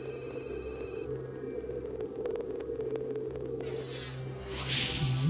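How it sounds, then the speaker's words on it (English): A ship heard underwater through a hydrophone, a steady low droning hum with rhythmic pulsing and faint clicks, ending in a brief noisy swish. "this is the sound of a ship."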